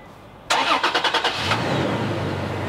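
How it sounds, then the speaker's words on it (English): A Toyota Tacoma truck starts by remote, the starter cranking in a quick rhythmic burst before the engine catches and settles into a steady, close idle. "And just like that, guys, the truck turned on."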